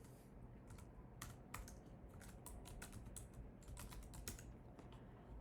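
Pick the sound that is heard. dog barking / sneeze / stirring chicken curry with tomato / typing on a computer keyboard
typing on a computer keyboard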